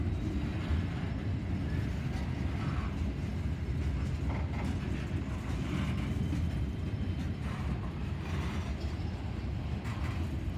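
A freight train with loaded auto rack cars carrying Nissan Rogues rolls past at Bellevue, a loud, dense, unbroken rumble with rattling and clattering wheels sustained throughout.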